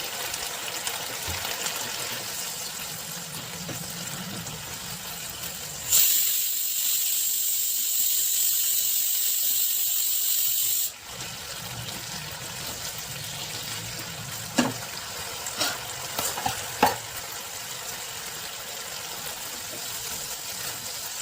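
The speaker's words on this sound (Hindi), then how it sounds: "गैस की फ्लेम को मीडियम टू हाई रखते हुए हमने सॉस को पका लिया है।" Sauce for paneer tikka cooks over a medium-to-high gas flame with a steady low bubbling hiss, interrupted by a few seconds of louder bright hissing and followed by several brief clinks.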